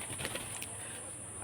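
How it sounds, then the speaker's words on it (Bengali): Pigeons let loose outdoors, with soft wing flaps and faint cooing over a steady hiss of background noise. "আর পায়রা সব ছাড়া আছে।"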